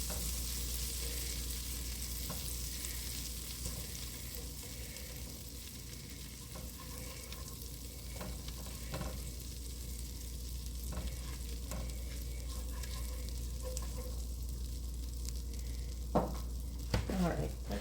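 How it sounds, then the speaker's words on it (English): Chopped onion, celery and carrot fry in melted butter in a pot for potato soup, a long steady hissing sizzle with a low background hum and a few utensil knocks and scrapes near the end. "I'm going to add the onion, celery, and carrot. And get that cooked down a little."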